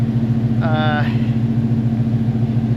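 A car engine idles with its exhaust fitted, a steady, low rumbling drone throughout, with a brief faint whine partway through.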